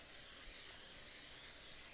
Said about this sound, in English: spray the top, because we want the top to brown